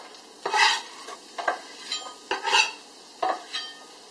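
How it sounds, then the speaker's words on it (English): Thinly chopped onions sautéing in a sauté pan, soft sizzle punctuated by several scraping stirs of a utensil at irregular intervals, close and quiet. "Okay, so I've got my onions sautéing."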